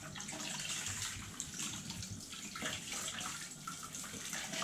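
Tap water runs steadily into a sink while dishes are washed, a continuous splashing hiss throughout with no talk.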